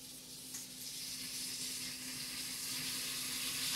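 Minced garlic sizzling in Kerrygold butter in a hot pan, a steady close hiss and crackle that continues without a break.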